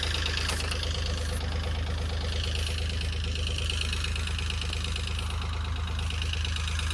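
A tractor engine idles steadily nearby on an Irish farm, a constant low throbbing hum with a regular mechanical pulse, running unchanged throughout.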